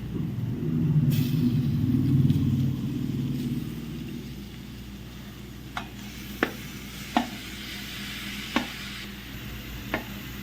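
Beef pieces go into a pan of well-cooked masala for a Kerala beef roast, a low rumbling sizzle at first, then quieter frying broken by several sharp spatula clicks against the pan.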